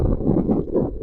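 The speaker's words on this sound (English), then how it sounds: "I apologise about the wind" Wind gusting across the mouth of a microphone on a coastal clifftop, a loud, close, continuous low rumble that swells and eases within a second.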